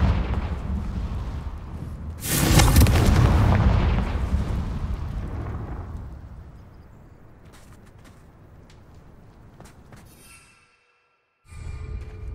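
A Confringo blasting spell bursts loudly in the Hogwarts Legacy game, a sudden broad blast with a long rumbling decay that fades over several seconds, followed by a brief silence and a return of game ambience.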